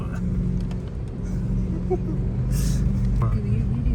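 A safari vehicle drives across sloping desert sand dunes in Qatar, its engine a steady low rumble running through the whole stretch, with faint voices and background noise around it.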